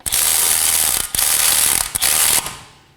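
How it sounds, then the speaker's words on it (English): A ratchet with a 21 mm socket snugs down bolts during front CV axle replacement on a 2018-2024 Chevrolet Equinox 1.5L L4, its rapid pawl clicking running in loud close bursts, three strokes separated by brief pauses. "I'm going to snug these down with my 21 millimeter"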